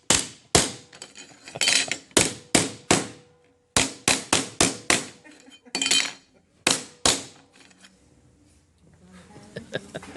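A hammer strikes an aluminum extruder template to flatten it again, a close series of sharp metallic bangs in uneven bursts with short pauses between blows.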